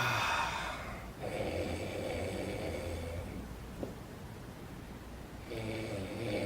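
A person imitates snoring with slow, breathy rasping snores that rise and fall in a steady rhythm, close and fairly quiet, with no other voices.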